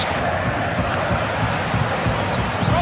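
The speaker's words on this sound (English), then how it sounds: "Groans from the crowd." A large football stadium crowd at a Real Madrid versus AC Milan match produces a dense, loud, continuous roar and murmur, a sustained wash of thousands of voices without distinct cheers.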